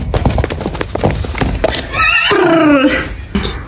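A loose horse neighs loudly and clearly in a stable setting, its whinny rising and falling for about a second after a series of hoof clops and scuffling.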